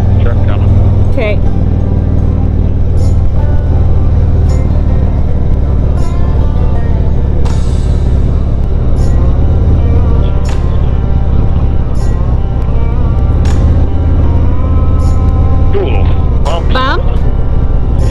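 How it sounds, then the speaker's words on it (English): A truck approaches and rolls past motorcycles on a rural mountain road, its rumble blending into the loud, constant roar of the bikes' Harley engines and wind, with short voice fragments over the noise. "Truck coming."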